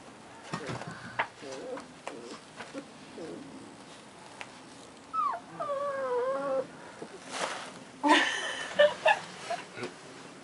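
Faint, high-pitched German Shepherd puppy whimpers and squeaky whines come in short bursts amid rustling of a paper towel and soft household noise.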